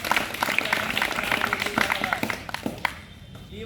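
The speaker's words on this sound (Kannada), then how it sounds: "ಒಂದ್ಸರಿ ಚಪ್ಪಾಳೆ ಹೊಡಿರಿ ಅಂದ್ರು" Schoolchildren at a social welfare school clap together on cue, a burst of fairly loud, uneven hand claps that thins out into scattered claps toward the end, with some talking mixed in.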